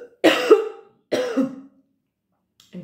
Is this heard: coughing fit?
yes